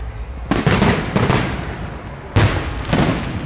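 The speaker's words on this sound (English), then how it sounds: "These are alright fireworks." Fireworks bursting at a free Bonfire Night display, several sharp cracks and booms in quick clusters over a crowd-like background rumble, loud and fairly close.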